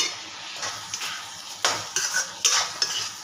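A spoon stirs Khandeshi masala khichdi with rice in a cooking pot, giving several close, scraping strokes against the metal at an uneven rhythm, with no talking.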